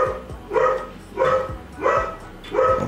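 An indoor dog reacting to golden retrievers outside barks in a steady rhythm, five sharp, fairly close barks spaced about half a second apart, with no talking.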